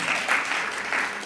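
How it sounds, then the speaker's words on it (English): Steady applause from an audience at a city and county candidate forum in Tacoma, a dense even wash of many hands clapping close by, with no voices over it. "yeah, you can clap for that."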